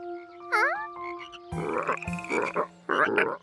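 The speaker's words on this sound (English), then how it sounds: "These loud frogs probably scared the tadpoles away." Loud frog croaks ring out close by, a rapid rattling chorus after a brief whistling call, in several pulsing bursts.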